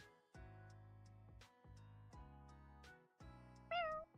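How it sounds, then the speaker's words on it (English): A domestic cat meows in a close, distinct series of four or five calls with short pauses between them. The last cry is louder and rises in pitch, and no one talks over it. "Hey kitty."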